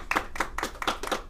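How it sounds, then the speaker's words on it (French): A short burst of clapping from a few hands, quick uneven claps for about a second, fairly quiet and close. "Vos applaudissements."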